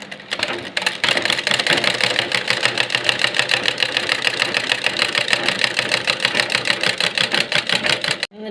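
A sewing machine stitches a back-neck model blouse, running as a steady, close, fast mechanical chatter of needle strokes for nearly the whole stretch before stopping abruptly at the end.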